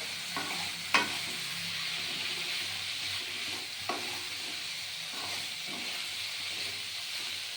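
Raisins frying in a pan, with a soft, continuous sizzle and occasional light clinks and scrapes of stirring, no voices.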